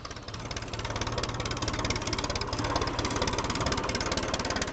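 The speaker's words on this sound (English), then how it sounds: "Ferguson FE35 petrol TVO from 1957" Vintage 1957 Ferguson FE35 petrol TVO tractor engine running, a steady rapid knocking idle, close and fairly quiet, with no voices.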